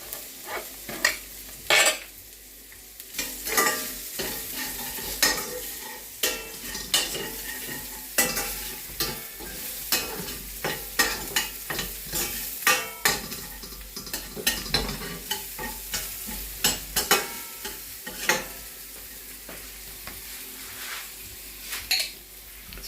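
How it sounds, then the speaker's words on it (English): Diced onion and mushrooms frying in a pan for an alkaline sauce, a continuous sizzle with frequent sharp clicks and scrapes of a spoon stirring against the pan, no voices. "We're putting the diced onion in."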